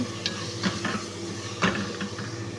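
A spoon scrapes and clinks around a pan while garlic and tomato sizzle softly underneath, a few sharp metallic taps standing out against the steady frying hiss.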